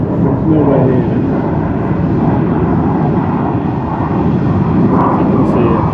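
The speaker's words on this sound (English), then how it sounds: "I can hear a plane." Wind rushes over the microphone outdoors while an unseen airplane drones faintly overhead, its low steady engine hum running continuously beneath the buffeting.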